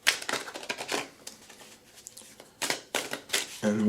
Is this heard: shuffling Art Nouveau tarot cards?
yes